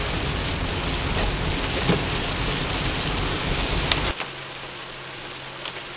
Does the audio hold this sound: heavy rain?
yes